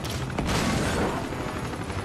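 Sustained rapid gunfire from the video game Uncharted 2 during a helicopter fight, loud and dense with a heavier burst midway through.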